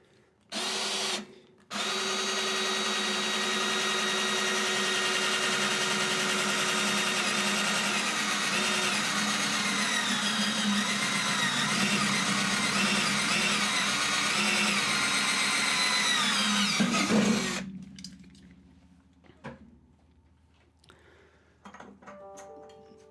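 Power drill boring a hole in a metal amplifier chassis, a brief start then a loud, steady high whine for about fifteen seconds before winding down to quiet handling noises.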